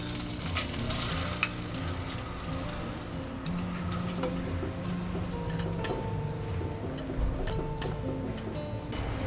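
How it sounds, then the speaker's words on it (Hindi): Ginger garlic paste frying on a low flame while being stirred steadily, a continuous close sizzle with scraping stir strokes and occasional light clinks of the utensil against the pan, no talking. "धीमी आंच पर लगातार चलाते हुए हमने अदरक और लहसुन के पेस्ट को 2 मिनट तक पका लिया है।"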